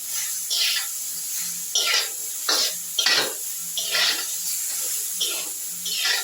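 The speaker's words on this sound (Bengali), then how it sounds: "সেই বাটাটা দিয়ে আমি আলু আর ডাঁটাটা ভেজে নিচ্ছি" Potato pieces and drumsticks frying in a pan with a ground poppy-seed and sesame paste, giving bursts of sizzling hiss that rise and fall with stirring, and a few faint scrapes between bursts.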